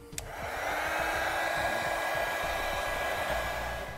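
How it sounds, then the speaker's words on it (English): Heat gun blowing hot air to shrink heat-shrink tubing over battery disconnect wiring on a 2017 Chevrolet, a steady, loud whooshing roar that holds constant throughout with no talking. "we can use a heat gun to shrink down our tubing"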